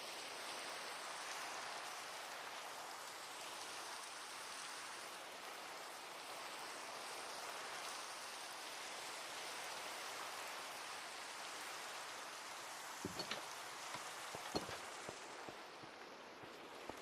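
Rain in the game Minecraft, a soft, continuous hiss of falling drops at low volume, steady throughout, with a few brief muffled knocks near the end.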